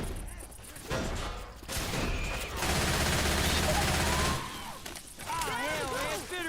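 Bursts of assault rifle fire ring out in a zombie shooter video game, rapid volleys with short pauses between them, mixed with game effects and a voice talking over the shooting.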